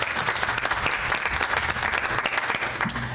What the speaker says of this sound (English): give me another round of applause for the nominating committee